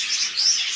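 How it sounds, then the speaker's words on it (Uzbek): Caged pet birds, such as parrots, canaries, cockatiels and finches, chirp in a brief, bright, continuous burst of overlapping tweets at steady volume with no voices. "Qushlarimiz bor."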